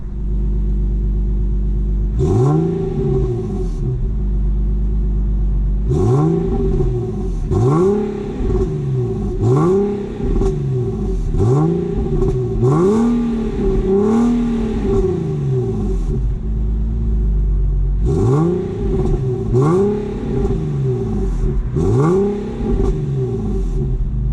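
An Infiniti G37 sedan engine fitted with ISR test pipes revs repeatedly in loud bursts, each climbing and falling back to a deep, rumbling idle, with a raspy exhaust tone close by.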